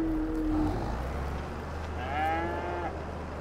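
Cattle in the Farming Simulator 22 video game, a couple of drawn-out moos, one low and one rising higher, over a steady low hum, with no talking.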